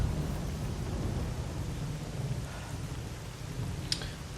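Steady rain hisses in Stalker: Call of Pripyat with the Misery mod, under a low rolling rumble of thunder. A brief sharp crack sounds near the end, with no talking.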